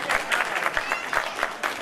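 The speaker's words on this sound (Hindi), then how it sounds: "अरे तालियां बजाते रहो।" A crowd claps steadily at an awards ceremony in a continuous patter of applause, fairly close, with faint voices mixed in underneath.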